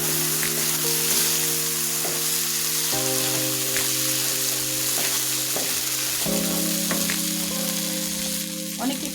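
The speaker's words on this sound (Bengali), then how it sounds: "ভালোভাবে নাড়াচাড়া করে নেব।" Pilaf rice stirred with a wooden spoon in a pot of hot fat gives a steady, close sizzle with light scraping, running under soft background music.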